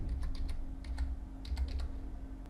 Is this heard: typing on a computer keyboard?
yes